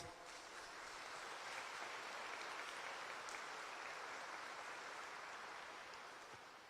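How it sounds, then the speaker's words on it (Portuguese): A church congregation at a Catholic Mass applauds to welcome guests, a dense steady wash of clapping from many hands that swells and fades over several seconds. "Queremos, com alegria, acolhê-los com uma salva de palmas."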